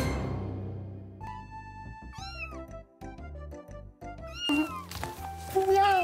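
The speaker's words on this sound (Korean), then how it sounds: "울음소리만 듣고 맞췄네? 내가 누구라고? 맞아! 난 고양이야." A cat meows several times in bright, rising and falling calls, some drawn out and wavering, heard loud and up close, with a children's TV setting and some musical or voice elements layered between the cries.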